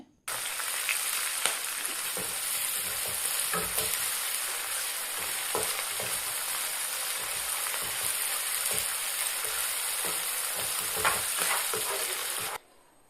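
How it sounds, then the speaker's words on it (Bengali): Beans and capsicum stir-fried together in a pan with a little salt, a steady loud sizzle with scraping stir strokes throughout, cutting off at the end. "সামান্য লবণ দিয়ে বিনসগুলোকে হালকা ভেজে নেব ও কেটে রাখা ক্যাপসিকামগুলোও এর ভেতরে দিয়েই ভেজে নেবো একসাথে"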